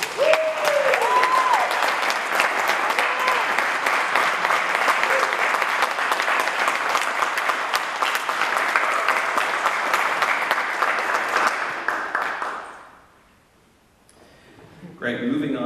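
Sustained, dense audience applause at an awards ceremony greeting a winner, loud and steady for about twelve seconds before tapering off to near quiet, with a voice briefly heard at the start and again at the end.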